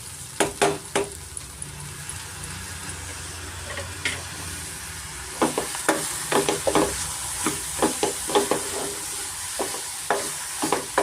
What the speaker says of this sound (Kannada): ಸ್ವಲ್ಪ ಮಸಾಲೆ ಒಳಗಡೆ ಹೆಸರುಬೇಳೆ ಮತ್ತು ಅಕ್ಕಿನ ಚೆನ್ನಾಗಿ ನಾವು ಹುರ್ಕೊಬೇಕಾಗತ್ತೆ.